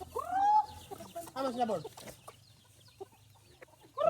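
Chickens cluck and squawk nearby in short bursts, with a person speaking briefly between the calls.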